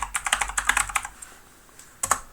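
Quick, close clatter of fingers typing on a computer keyboard, a rapid burst of about a dozen keystrokes, a short pause, then a couple more taps.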